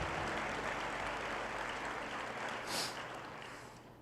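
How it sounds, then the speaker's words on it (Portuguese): A church congregation applauding, a steady patter of many hands clapping at moderate distance, fading slightly toward the end. "Podemos aplaudir o Senhor?"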